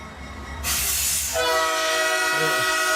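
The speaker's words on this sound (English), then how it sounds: "Oh, 6 o'clock train came by." Early morning 6 o'clock train passing close by, with a loud rumbling roar joined by a sustained blaring horn, heavy and near with no talk.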